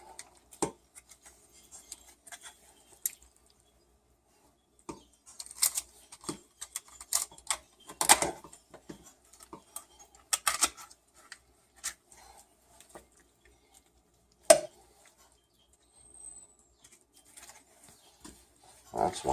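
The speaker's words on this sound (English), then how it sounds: "I'm going to cut right there along the backbone. And I'm going to cut the backbone right out." Kitchen shears snipping along the backbone of a Cornish hen to cut it out, a series of sharp, irregular clicks and crunches, close and fairly quiet, with gaps of near silence between bursts.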